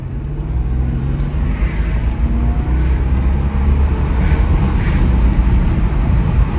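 BMW E92 M3 with its V8 engine pulling hard under acceleration from a green light, a steady, loud low-pitched roar that holds continuously throughout with constant road and cabin rumble.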